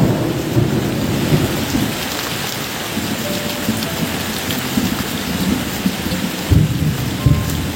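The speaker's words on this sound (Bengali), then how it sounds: "প্রচণ্ড জোরে বৃষ্টি হচ্ছে কিন্তু বন্ধুরা আমাদের এখানটায়।" Heavy rain pours in a loud, continuous roar with low rumbles of thunder beneath it, steady throughout and no voices.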